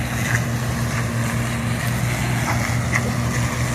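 A combine harvester with a flex head and dual wheels runs nearby, blowing smoke as it goes. Its engine gives a steady low droning rumble with a tonal hum, mixed with wind-like noise and a few faint clanks.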